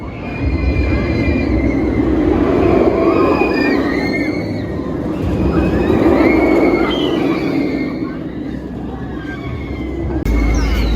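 The Inferno roller coaster at Thorpe Park rumbles past on its track with rising and fading roars and squealing wheels. Crowd chatter and ambient theme park noise sit underneath.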